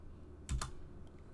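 A few quick, soft keystrokes on a computer keyboard while a network router command is entered, close and quiet, with no talk.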